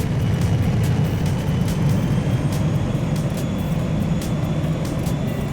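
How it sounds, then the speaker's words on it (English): Steady, loud low rumble of a plane in the PowerWash Simulator video game, a continuous engine drone with a faint high hiss over it, running unbroken throughout with no talking. "what's that god-awful noise? Oh, hey, there's the plane"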